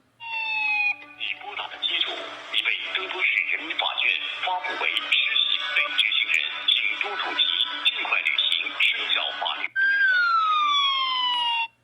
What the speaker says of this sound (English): your phone emits a siren instead of the usual ringtone.